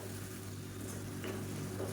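Tomato gravy thinned with hot water simmering in a pan, a steady low bubbling and gentle sizzle that continues evenly with no talking.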